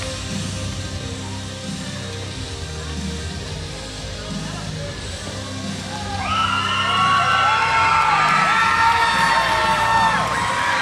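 A wrestling crowd in Ellisville, Mississippi cheering and shouting for the hometown wrestler, with a low murmur that swells into loud, high-pitched cheers and yells, while a commentator talks.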